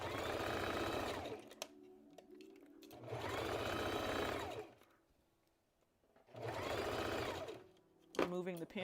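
Sewing machine stitching a band onto a dress, running in three steady bursts with quiet pauses between, close and alone.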